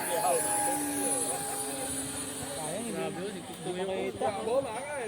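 A model RC airplane flies overhead with its engine droning at a steady high pitch, shifting and wavering as it manoeuvres and dives at a moderate distance, while people talk over it.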